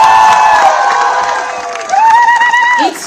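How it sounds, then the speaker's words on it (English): A large crowd at an honours event for Indian athletes gives loud, sustained cheering, with whoops and shouts rising over a continuous roar. "she needs a round of loud cheer"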